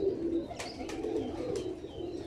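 Cheene-breed pigeons coo softly close by, a few low, rounded coos over a faint background with light rustling and a couple of brief chirps.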